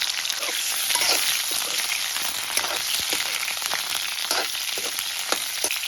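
Cauliflower florets frying in the oil left over from frying potatoes, giving a steady close bubbling sizzle throughout with small crackles and spits, with no talk.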